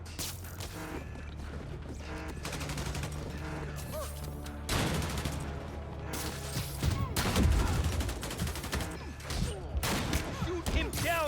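Gunfire in the Marvel's Spider-Man Remastered video game: repeated rapid bursts and sharp shots crackle over a steady low hum, with occasional heavier impacts and clattering effects mixed in.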